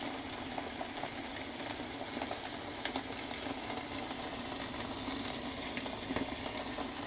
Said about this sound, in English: I like to hear it fry.